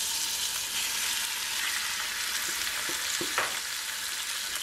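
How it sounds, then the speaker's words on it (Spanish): Meat sautés in a hot pan for Chinese-style fried rice, giving a steady, close sizzle with a few soft clicks of stirring near the end. "vamos a sofreír la carne"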